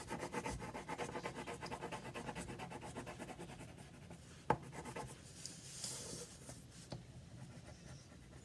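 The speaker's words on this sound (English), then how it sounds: "So I'm going to draw on the bottom part of it. I'm going to color it in really good." Pencil or marker rubbing back and forth on paper while shading in a cartoon figure drawing, a steady close scratchy scrubbing with a couple of sharper taps.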